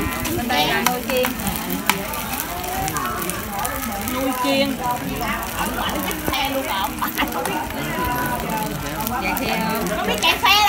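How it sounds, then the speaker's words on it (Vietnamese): Steady sizzling and crackling of food frying, with children's voices and chatter mixed in throughout. "Bên đây là nồi chiên."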